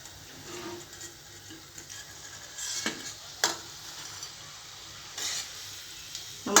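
Sweet crescent pastries deep-frying in oil, a soft, steady bubbling sizzle heard close up, with a few sharper clinks and scrapes of a utensil.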